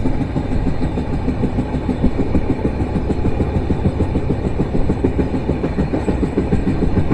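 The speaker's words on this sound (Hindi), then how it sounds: "पटरी पर दौड़ती ट्रेन की आवाज वाकई शानदार लग रही है।" The LTT Visakhapatnam Express runs on tracks with a loud, close, continuous rumble and a rapid rhythmic clatter of wheels over rail joints, with no voices.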